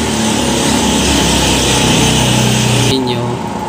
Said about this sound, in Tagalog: Okay na yung ikot ng motor niya, yan.